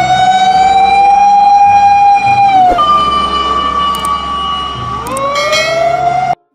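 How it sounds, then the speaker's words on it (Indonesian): A loud electronic toy fire truck siren wails continuously, its pitch sliding down and then back up, cutting off abruptly at the end. "Wih, di sini ada truk tangga pemadam kebakaran."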